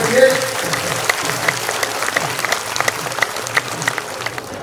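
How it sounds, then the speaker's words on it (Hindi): An audience at a Ram Katha devotional gathering claps hard, a dense, continuous round of applause from a crowd filling the whole stretch at steady loudness. "मुरली वाले हौसला जी का आप लोग जोरदार ताली से हाथ इशारा करेंगे"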